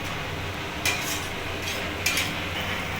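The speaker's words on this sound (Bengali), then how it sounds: "এবার মশলাগুলোকে আমি ভালোভাবে নাড়িয়ে নেব গ্যাসের ফ্লেমটা একটু জোরে দিয়ে দিলাম" Spices stirred in a pan over a high flame, with two brief scraping strokes of a spoon against the metal about a second apart, heard close over a low, steady background hum.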